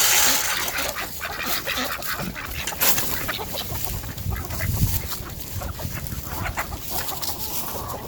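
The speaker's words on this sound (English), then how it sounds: "You can see the ducks waddling away over there." Ducks on a small farm quack and cluck in loud, irregular bursts close by, mixed with other poultry calls over an outdoor background of rustling and low wind.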